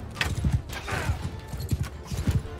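Horse hooves in the Mount & Blade 2 video game, a run of uneven clip-clop thuds across the clip, close and prominent amid battle noise.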